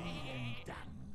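A short sheep bleat from the Hearthstone card game's polymorph effect, a single wavering cry lasting about half a second, clear and alone over faint game background.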